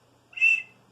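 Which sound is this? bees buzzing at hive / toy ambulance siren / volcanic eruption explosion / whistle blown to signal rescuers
whistle blown to signal rescuers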